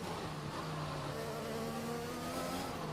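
Formula 1 race car engine from the F1 2021 game at the Dutch Grand Prix, a steady high-pitched whine held at constant volume, buzzing and insect-like with sustained engine harmonics, alone without talk.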